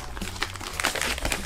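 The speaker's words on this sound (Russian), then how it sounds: "Возьмем пакетик." Plastic vacuum-sealer bag handled at close range, giving a steady run of crinkling and rustling with sharper crackles throughout, no talk.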